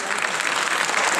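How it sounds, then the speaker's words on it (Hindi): A crowd at a public meeting with a Delhi minister in Gandhinagar claps loudly, a dense, continuous burst of applause up close. "गांधीनगर के लोग सब लोग जोरदार ताली बजाएंगे।"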